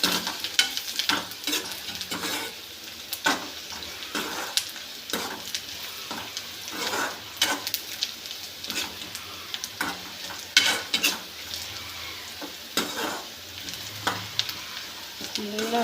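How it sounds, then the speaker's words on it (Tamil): Pulicha keerai greens frying in a pan in a village kitchen, a continuous sizzle broken by frequent scraping stirs and sharp clinks of a spoon against the pan, close and alone. "நல்லா ஃப்ரை ஆகட்டும்."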